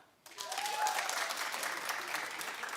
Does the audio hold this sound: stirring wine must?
no